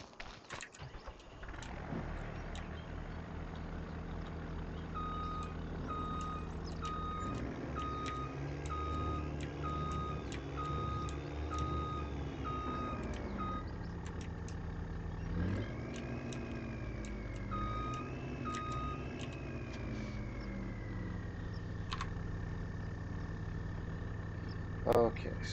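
Truck in Farming Simulator 25, its engine droning and rising in pitch through revs, with steady reversing beeps chirping over it as it moves.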